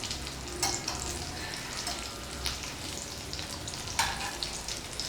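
Chicken fingers fry in hot oil in a pan with a soft, steady sizzle and crackle, plus a few sharper pops and spits here and there; no one speaks.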